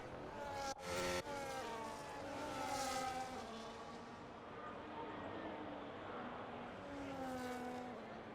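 F1 cars in the F1 25 racing game run a formation lap at São Paulo, engines droning and rising in pitch as they pass at moderate distance, with someone talking over them throughout.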